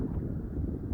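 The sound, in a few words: strong wind blowing on the microphone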